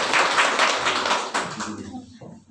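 Audience clapping to welcome speakers at a women's DXN business gathering, a dense burst of applause that fades out over a couple of seconds.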